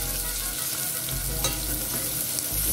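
Garlic sizzles and fries steadily in a pan for a minced beef stew, a close, continuous crackle with a few faint stirring clicks.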